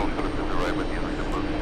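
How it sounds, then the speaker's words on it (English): A Turkish Airlines Boeing 777 arriving at JFK from Istanbul gives a short, steady, broadband engine roar, fairly loud and continuous throughout. "Turkish 1 flying in from Istanbul. There you go, big 777."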